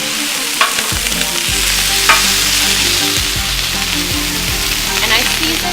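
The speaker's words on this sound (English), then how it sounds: "I seasoned the griddle with some olive oil first. So it's got a little olive oil, the potatoes and veggies will have some." Potatoes, vegetables and sliced mushrooms sizzle loudly and steadily on a griddle seasoned with olive oil, a dense close frying hiss with occasional scrape-like accents from stirring.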